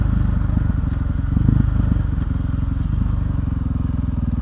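A KTM 500 EXC supermoto thumps along while being ridden, its single-cylinder engine giving a loud, rapid, even pulse close up for the whole stretch, with wind noise over it.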